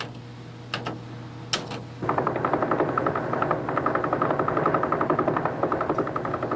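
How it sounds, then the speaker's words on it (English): Radio recording of a spinning pulsar: a few scattered clicks over faint hiss and a low hum, then a steady rapid train of sharp ticking pulses against crackling static, loud and mechanical. "And pulsars sound like this."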